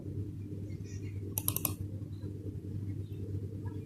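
A computer mouse gives a quick burst of about four sharp, close clicks near the middle, opening SP Flash Tool over a low steady electrical hum, with no speech.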